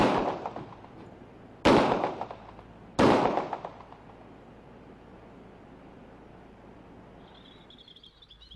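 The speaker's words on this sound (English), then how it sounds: "See for yourself as the officer fires the weapon." Two sharp, loud .40 caliber pistol shots are fired by an officer at a piece of metal, spaced about a second and a half apart, each ringing out with a decaying echo before the surroundings fall quiet again.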